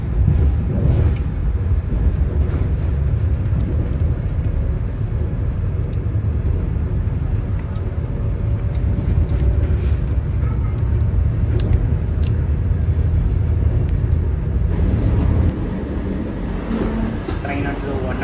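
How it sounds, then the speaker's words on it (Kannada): Inside the Chennai–Mysuru Vande Bharat Express cruising at about 107 km/h, a loud continuous low rumble of the moving train with a steady roar throughout and voices talking over it. "ಟ್ರೈನ್ ಅಂತೂ 107, 108 ಕ್ರೂಸ್ ಮಾಡ್ತಿದೆ"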